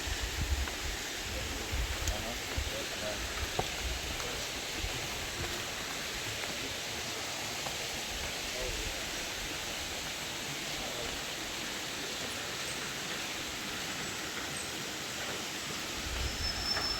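A stream flows steadily after recent rain in a hiking area between Signal Point and Rainbow Lake, giving a soft, continuous rushing wash heard from a little distance.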